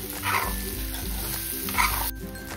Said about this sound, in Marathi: आता हा मसाला आणि वांगी ना अगदी छान असे परतून घेऊयात आपण।